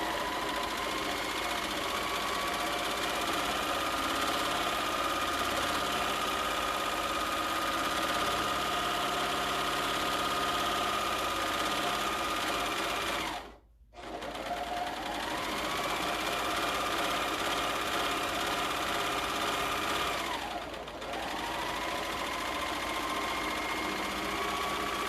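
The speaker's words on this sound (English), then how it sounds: "baste along your edge using your regular sewing machine" A sewing machine bastes along the edge of handwoven fabric in a long, steady whirring stretch, pausing briefly once before resuming its continuous mechanical hum.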